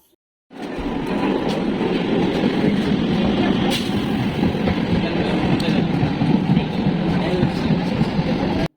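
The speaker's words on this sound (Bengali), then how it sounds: "এখান থেকে কিন্তু আমরা আবার আমাদের কালীনারায়ণপুর যাওয়ার ট্রেনটা ধরবো" An Indian local passenger train running between Ranaghat and Kalinarayanpur, heard from inside: a loud, steady rumbling roar with faint wheel rattle that starts abruptly and continues throughout.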